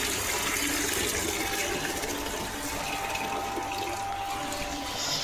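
Cold water pouring steadily for a bath, a continuous broadband splash and gush that stays loud and close for the whole stretch, with no voices over it.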